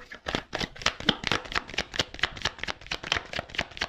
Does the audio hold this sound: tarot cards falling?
yes